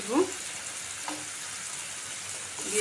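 Ground panch phoron spices fry in a pan during star fruit pickle cooking, with a steady hiss and soft sizzle and a few scraping stirs at the start and end.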